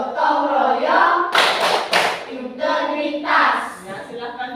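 A room of children chants the PPK clapping cheer together, choral shouting of young voices alternating with clustered bursts of hand claps, close and lively.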